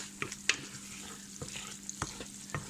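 Chicken browning in a pan gives a soft, low sizzle, with a few sharp pops and light clicks of stirring scattered across a short, quiet stretch, close by and without voices.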